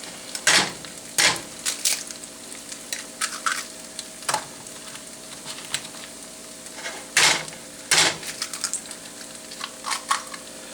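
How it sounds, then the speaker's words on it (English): Eggs frying in melted margarine in a pan, a soft steady sizzle under recurring sharp clinks and scrapes of a utensil against the pan, with no talking. "I've got some margarine melted up. And we're going to fry us a few eggs."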